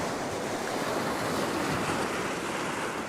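Ocean surf breaking on a shoreline, a steady, loud wash of whitewater with continuous roaring hiss and some wind buffeting the microphone, no voices.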